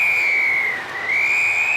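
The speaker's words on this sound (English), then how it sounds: "As the whistle goes for half-time on court 1" A referee's whistle blows for half-time at a netball match between Australia and Northern Ireland, one long, loud, piercing blast that dips slightly in pitch midway, heard alone.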